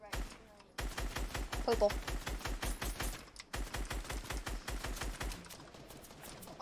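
Rapid, evenly spaced bursts of SCAR rifle fire in the video game Fortnite, loud and close. The shots come in two long runs split by a short pause, with a brief spoken word over the firing.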